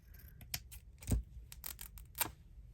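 Paper torn by hand in a stitchery journal session: several short, crisp ripping bursts spaced across a quiet background, the loudest tear near the middle.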